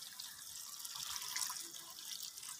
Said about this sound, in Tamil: சுடுதண்ணி ஊற்றி